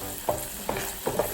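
Bacon sizzles in a pan while being stirred, with three soft scraping strokes of a utensil cutting through a steady close crackle of rendering fat.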